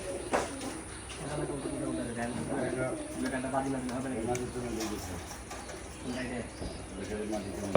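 Mukshi pigeons at a Bangladeshi loft coo in low, repeated throaty bursts, moderately close, mixed with other birds and people talking over them throughout.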